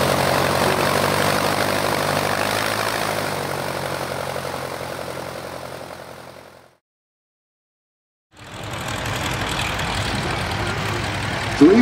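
A Morane-Saulnier MS-317 propeller airplane at the Hahnweide airfield show rumbles loudly and steadily with engine drone, cutting to silence midway before the engine noise resumes just as strongly.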